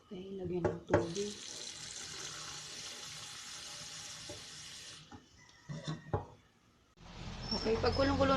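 Water pours steadily from a tap into a pot of hotdogs for several seconds, stops with a few clunks, then flows again under a brief voice.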